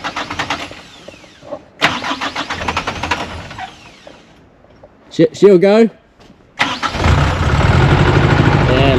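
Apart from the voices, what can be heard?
truck engine starting and idling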